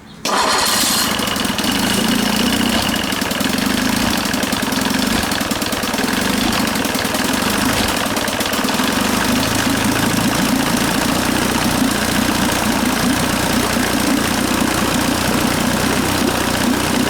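A 1955 Chris Craft boat engine catches on a cold start and settles into a loud, steady idle that runs without a break to the end, with no voices over it.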